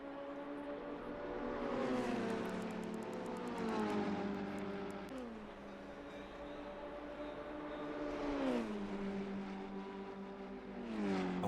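Race cars lapping the Imola circuit in a racing game, engines droning steadily with rising and falling pitch as they brake and accelerate, the whine continuous across the whole stretch.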